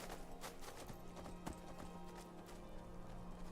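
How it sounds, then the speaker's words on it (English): Horse hooves clip-clop steadily on the ground in Skyrim, with a fairly close, even rhythm of repeated hoof strikes over a constant background hum. "I'm just gonna go to my way more cooler and convenient horse over here"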